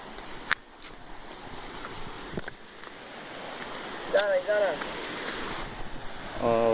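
A waterfall pours with a steady, broadband rushing roar through the whole stretch, while brief voices speak over it near the end.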